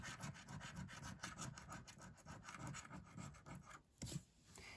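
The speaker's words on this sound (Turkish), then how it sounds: "Kazanan numaraları hızlıca kazıyorum." Double-chance lottery scratch cards being scraped quickly, a steady run of rapid rasping rubs close up that stops briefly near the end, with no talking.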